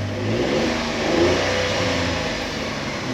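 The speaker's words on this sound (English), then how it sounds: "Why doesn't it rev free rev?" A Volkswagen Polo engine at about 80,000 km being free-revved with the check engine light on, rising and falling mid-pitched engine note close by, no talking.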